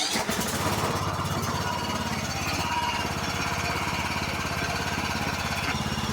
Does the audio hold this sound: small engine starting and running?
yes